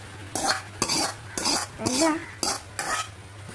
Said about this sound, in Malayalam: നമുക്ക് നല്ലോണം ഒന്ന് ഇളക്കി യോജിപ്പിക്കാം.